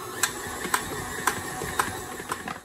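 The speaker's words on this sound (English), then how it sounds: "I prefer to use a stand mixer. I'm just going to let this run for a couple minutes and knead our dough." A stand mixer kneads pretzel roll dough with a low motor hum and a regular thumping knock about twice a second as the dough slaps around the bowl, heard close and alone.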